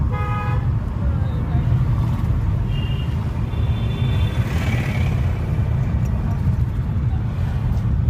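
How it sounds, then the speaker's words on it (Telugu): A car horn gives a brief toot near the start of an on-road driving lesson, then the engine rumbles steadily in the cabin while an instructor and learner talk throughout. "హారన్ అప్లై చేయండి"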